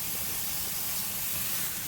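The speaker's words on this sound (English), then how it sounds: "I'm just trying to" Chicken and squash are sautéing in a pan. They give a loud, steady, close-up sizzle of frying with no pauses and no talk.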